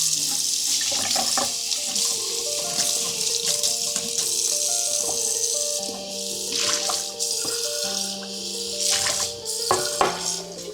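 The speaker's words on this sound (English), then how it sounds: "I'm going to go ahead and rinse this off." Tap water runs steadily into a sink as mildewed seedlings are rinsed beneath it, a loud continuous splashing rush with shifting tone, no talking over it.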